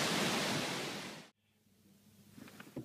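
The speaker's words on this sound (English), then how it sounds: "now we're exploring these waterfalls" Waterfalls along an outdoor trail give a loud, dense rushing roar that stops abruptly after about a second, leaving quiet background noise.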